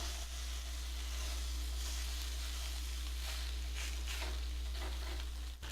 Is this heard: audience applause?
no